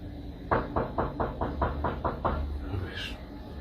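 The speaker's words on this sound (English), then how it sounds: "Ay, güey, están tocando la puerta." Knocking on a door, a run of about eight evenly spaced firm knocks, fairly close, followed by a brief quiet rustle.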